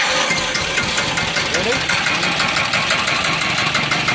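Sanedo mini tractor engine starting with its self-start gear, then settling into a close, loud, steady knocking run that keeps an even rhythm while someone talks over it.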